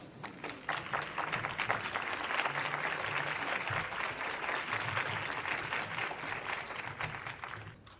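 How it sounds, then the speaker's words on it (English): Audience applause honoring a judge at a bar association women's committee scholarship tea, a dense, steady wash of many hands clapping that fills the room for about eight seconds and fades slightly at the end. "Please give a round of applause and please stand up to honor Judge Cho."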